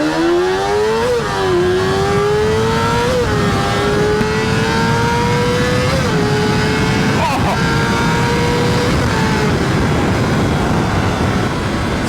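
A Kawasaki ZXR250 motorcycle screams hard under acceleration, its high-revving engine whine climbing steeply through several gears with brief dips at each shift, loud and close from start to finish.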